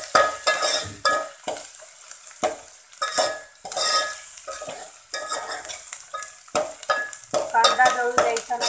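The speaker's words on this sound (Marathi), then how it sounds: "कांदा गळू द्यायचा नाही, त्यासाठी असं छान पळीने सतत ते परतवत राहायचं आहे" Onions with cucumber frying in a pan for Khandeshi chicken curry, stirred continuously with a ladle: loud repeated scraping strokes in an uneven rhythm over a bright, steady sizzle, close up and without talk.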